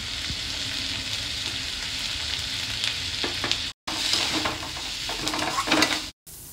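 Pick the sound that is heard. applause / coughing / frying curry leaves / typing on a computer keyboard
frying curry leaves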